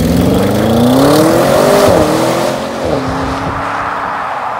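A 2022 Audi RS6 with a ZF gearbox and 600 horsepower accelerates hard, its engine note climbing loudly before a gear change drops the pitch and it pulls on, alone without speech.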